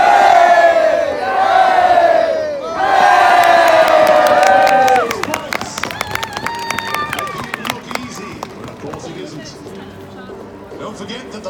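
A spectator crowd at a lance ring riding event on horseback whoops and cheers loudly in two long surges, then breaks into scattered clapping and calls that fade toward the end.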